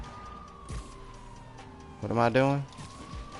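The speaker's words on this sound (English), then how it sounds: "I guess I can hear the police cars from blocks away" A distant police car siren in a video game wails faintly in the background while someone speaks briefly over it.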